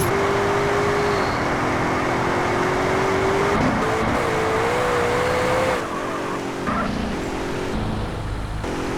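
A car engine drives in a video game, a loud, continuous droning hum that holds a steady pitch with small rises and dips, alone with no talking.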